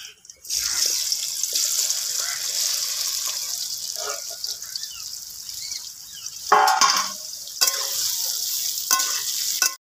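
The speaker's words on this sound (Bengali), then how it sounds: "এবার 4 থেকে 5 মিনিট আমি তেলে ভালো করে নেড়ে নিয়েছি।" Amla gooseberries sizzle and fry in hot oil with black cumin, a steady bright hiss running the whole time, broken by a few louder bursts of stirring and spoon scrapes near the pan.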